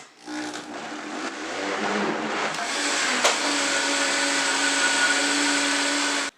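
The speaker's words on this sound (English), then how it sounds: "Now we're going to blend it up in our blender." Blender whirring steadily while blending a banana drink for agua de plátano, a loud continuous motor drone after a brief start-up, running unbroken to the end.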